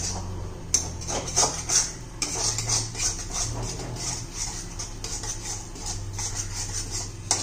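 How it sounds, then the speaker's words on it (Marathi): A spoon stirs and beats yogurt gravy with capsicum in a pan over low heat, giving a steady run of soft scraping and clinking strokes against the metal, close and fairly loud, with no talk. "एकसारखं हलवून घ्यायचे, चांगलं फेटून घ्यायचे"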